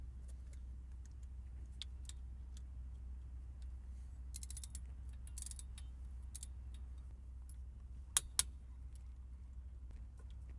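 A torque wrench tightens the rear differential fill plug on a 2013 Subaru Outback to about 37 ft-lb. Faint scattered mechanical ticks sit over a low steady hum, then two sharp, close clicks come near the end.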